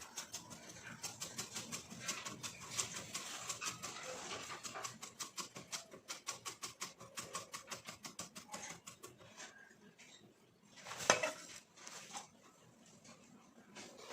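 Rapid, steady knife strokes slicing ginger into thin strips against a cutting board, continuing for several seconds before slowing and ending with a few louder cuts.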